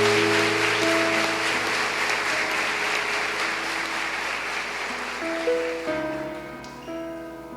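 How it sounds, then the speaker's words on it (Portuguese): A church congregation applauds after a Gospel reading at a Catholic service, a broad clapping wash heard under sustained organ or keyboard chords that shift near the end as the clapping tapers off. "Aplauda a palavra de Deus."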